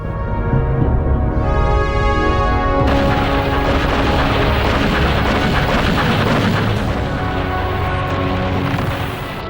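A massive artillery barrage pounds French bunkers at Dien Bien Phu during the final Viet Minh assault of May 1954, a loud continuous roar of overlapping explosions and rumble with a swelling music-like tone early on.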